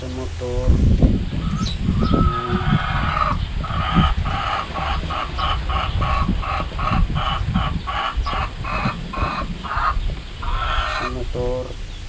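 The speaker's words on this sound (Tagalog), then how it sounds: "naririnig nyo yung manok ko" A chicken clucks repeatedly in a rapid, rhythmic series, close and prominent, with scattered background noise throughout.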